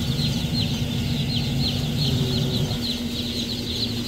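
Hundreds of young Kadaknath chicks crowd a poultry shed, their high-pitched peeping forming a dense, continuous chorus close by, with no talking.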